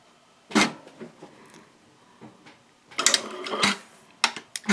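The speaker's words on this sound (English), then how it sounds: "I'm going to start sewing straight across" Sewing machine stitching straight across a minimalist ID wallet, in short bursts: one quick run near the start, a longer stretch of stitching later, then a couple of brief final pulses.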